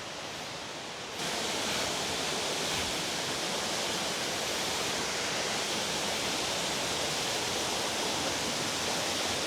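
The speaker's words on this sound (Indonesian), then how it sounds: "Oh, air terjun guys." A waterfall in the Cangar forest roars as a dense, steady rush of falling water, loud and close, swelling up after a brief quieter moment at the start and then holding constant with no talk.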